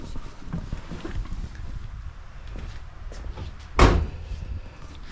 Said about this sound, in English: Also, power door locks.